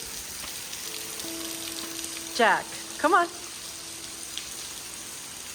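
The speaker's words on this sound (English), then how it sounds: "It is just pouring out there." Heavy rain pours down outside, a steady wide hiss that runs through the whole stretch, while a voice calls out briefly twice over it.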